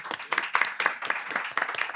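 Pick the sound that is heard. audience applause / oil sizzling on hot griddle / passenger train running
audience applause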